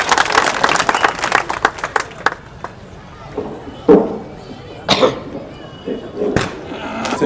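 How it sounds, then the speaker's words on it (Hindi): A crowd claps in a brief burst that thins into scattered claps, with a voice talking and a few coughs in the background. "आप तालियां बजा करके बताएं"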